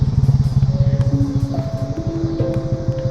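A Yamaha MT-09 motorcycle's exhaust, heard up close as a loud, throbbing rumble with a rapid, even pulse, idling steadily with faint whining tones layered above it.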